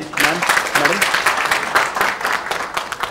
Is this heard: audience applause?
yes